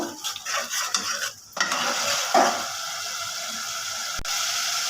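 Spice paste with tomato being stirred and fried in a pan for a Bengali gourd and stinging catfish curry: steady close sizzle with scraping spoon strokes and a few sharp clinks, briefly dipping in the middle.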